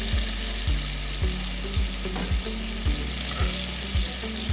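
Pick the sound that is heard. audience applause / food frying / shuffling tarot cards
food frying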